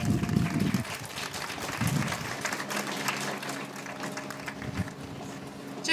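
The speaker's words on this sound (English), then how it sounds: "Let's give her a big round of applause." An audience at the Miss Arkansas Rice Festival Queen pageant gives soft, steady applause that carries on for several seconds under room noise, with a few louder murmurs mixed in.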